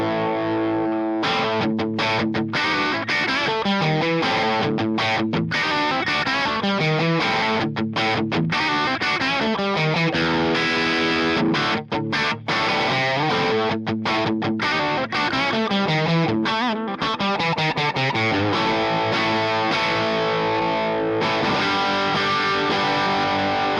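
Electric guitar, a Telecaster then a Les Paul, played through Orange amps, an OR15 and a Super Crush 100, with heavy distortion: loud chugging riffs and sustained chords with abrupt stops, steady and close with no talking.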